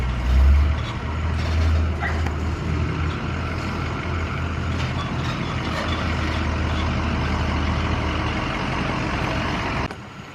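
A large car-hauler truck pulls up for a delivery, its heavy diesel engine rumbling steadily for about ten seconds at moderate distance, with a brief hiss like an air brake near the end.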